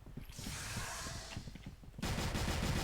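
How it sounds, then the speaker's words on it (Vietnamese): Dense, rapid bursts of gunfire from a video game, continuous throughout and growing louder and brighter near the end. "Khẩu súng này bắn súng khó quá."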